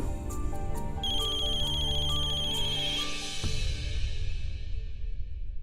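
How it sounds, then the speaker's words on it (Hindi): A mobile phone ringtone plays a bright repeating melody at steady volume indoors in a household scene from a Hindi TV drama, then stops abruptly and leaves a fading tail. "किसका फोन है"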